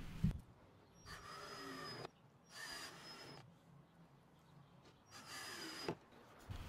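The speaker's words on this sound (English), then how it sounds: "With my number 6 countersink bit, I'll drill holes on each side of each piece" Drill with a number 6 countersink bit boring holes in wood pieces for a little free library, running in four separate bursts of a couple of seconds each with quiet gaps between, fairly faint.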